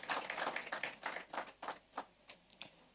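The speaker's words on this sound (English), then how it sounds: "A round of applause for her" Scattered clapping from a small audience at a gender summit book launch, several pairs of hands beating quickly at first, then thinning to a few faint, spaced claps.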